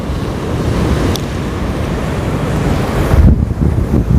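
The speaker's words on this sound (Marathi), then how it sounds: "तिकडं बघा तिकडं अजस्त्र लाटा अजस्त्र लाटा अजस्त्र आवाज" Loud, roaring surf as rough Arabian Sea waves crash close by, with heavy wind buffeting the microphone the whole time.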